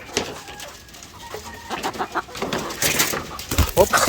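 White Leghorn x Black Australorp crossbreed chickens cluck and chirp close by in short irregular bursts, with busy rustling and movement around them.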